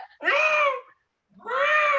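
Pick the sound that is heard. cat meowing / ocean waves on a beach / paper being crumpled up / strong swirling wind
cat meowing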